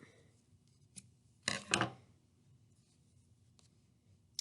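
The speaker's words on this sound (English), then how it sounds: "My yarn's a little long, I'm just going to cut it." Scissors snipping through craft yarn during a winter mittens project: a faint tick, then a quick pair of close crisp cuts in a quiet room, with another soft click near the end and no talk.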